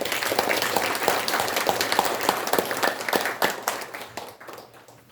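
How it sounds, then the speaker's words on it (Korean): An audience at a Korean memorial ceremony gives a warm round of applause, the clapping strong and dense at first, then thinning and trailing off toward the end. "뜨거운 감사와 고마움의 박수 다시 한번 부탁드립니다"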